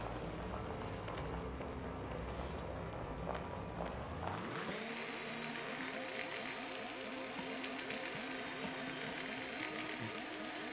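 A large rover in the video game Astroneer drives along with a steady whirring motor hum, engine tones shifting and rising partway through as it rolls over rough terrain, continuous and moderately loud.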